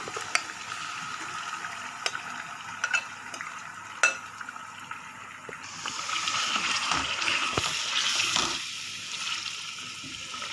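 Chicken added to a pan of fried ginger garlic paste and tomato for achar gosht, then stirred: wet scraping and sizzling at close range that grows busier as the stirring goes on.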